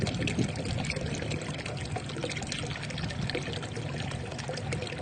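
Cloudy, murky water pours steadily from a tap in Tasbuget, a constant close splashing rush with no pause and no talk.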